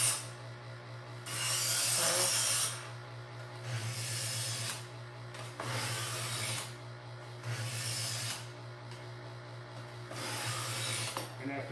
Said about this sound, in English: These are little diamond pads that are oscillating, and they're putting a very fine edge.